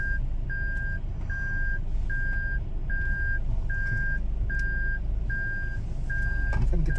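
A Toyota Veloz Q TSS shifted into reverse gear sounds its warning, an evenly spaced chain of about nine identical beeps over a low, steady engine hum.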